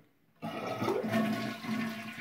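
A toilet flushed with its water supply shut off: a sudden loud rush of draining water starts after a brief quiet moment and keeps churning steadily nearby, with no talk.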